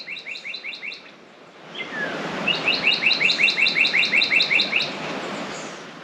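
Songbirds in Colorado Bend State Park chirp in quick repeated bursts, one short series followed by a longer rhythmic run of bright, fairly close calls over a quiet outdoor background.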